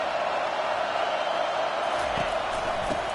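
A stadium crowd at a Michigan versus Fresno State football game keeps up a constant, moderately loud wash of noise, with a few faint bumps and stirrings late on and no distinct voices standing out.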